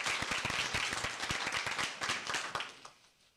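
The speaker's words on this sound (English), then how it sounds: "I think we should give them a round of applause." A room at a school board meeting breaks into applause, with distinct individual claps standing out close by before the clapping thins and fades out near the end.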